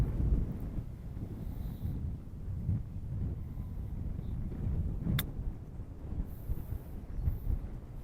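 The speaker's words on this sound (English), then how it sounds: "wind's obviously up again" Wind gusting across an open golf course, a steady, loud rumble of buffeting on the microphone with no speech, broken by one brief sharp click.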